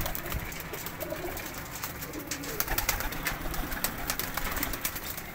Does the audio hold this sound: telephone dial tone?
no